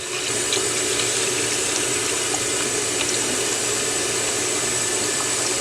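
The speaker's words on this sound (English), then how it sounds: "Add your water." Water runs steadily from a tap into a pot for chicken noodle soup, a constant rushing fill with no pauses, fairly loud and close with no talking.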